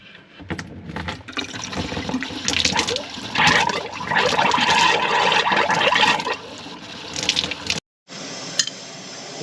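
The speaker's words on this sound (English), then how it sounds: "we can just go open a hot water faucet and let the water run through" Hot water faucet opened to purge air from a water heater line, water gushing and splashing steadily at close range with sputtering bursts, briefly cutting out before resuming.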